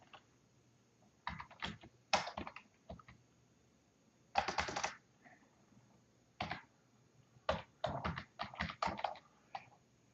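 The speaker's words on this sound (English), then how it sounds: "So I type automobile." Quiet, close typing on a computer keyboard comes in irregular clusters of quick key clicks separated by short pauses, with no talking.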